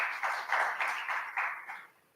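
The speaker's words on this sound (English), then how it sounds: "Let's give a big round of applause for Mr." Audience at an investors' summit session in Pune applauding a panelist, a brief burst of clapping that rises in waves and fades out by the end.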